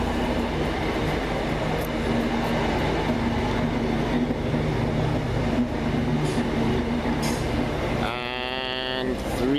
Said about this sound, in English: this is our train coming now